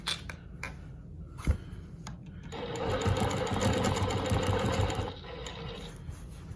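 A longarm quilting machine stitches ruler-guided Baptist fan patterns on a quilt top, starting with a few short ticking bursts, then running in a steady, close whirring drone for a couple of seconds before slowing again.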